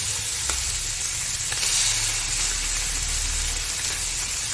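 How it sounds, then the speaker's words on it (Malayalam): Pieces of sardine frying in a pan, giving a loud, steady close-up sizzle with a few faint stirring clicks and no talk. "അങ്ങനെ 2 സൈഡും നമുക്ക് പൊരിച്ചെടുക്കാവുന്നതാണ്."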